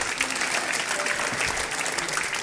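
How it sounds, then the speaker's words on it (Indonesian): Steady, dense applause from a large church congregation, continuous clapping at even loudness throughout. "Beri tepuk tangan untuk Tuhan Yesus"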